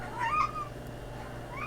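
A cat gives a single soft, drawn-out meow, followed by a fainter second call against a quiet indoor background.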